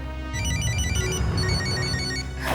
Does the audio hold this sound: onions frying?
no